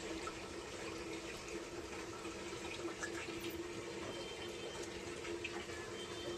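Rice being washed in water before cooking gives a soft, steady trickle and slosh of water, faint and continuous, with a low background hum.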